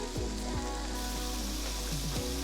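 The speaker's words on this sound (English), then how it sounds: "Here is our cut up bacon and we'll just add that to the pan." Cut-up bacon fries in a pan for a warm bacon potato salad, a dense continuous sizzle and crackle with light spatula scrapes and taps, close and loud with no talk.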